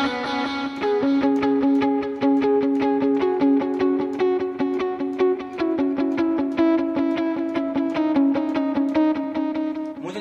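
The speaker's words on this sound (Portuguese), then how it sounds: "E eu também mudei o reverb para que não seja aquele reverb tanto ambiente e o delay venha na cara desse timbre" Electric guitar played through a Valeton GP-200 multi-effects pedal with delay and reverb, a loud, steady run of picked notes with echoing repeats trailing behind each attack, alone without talk.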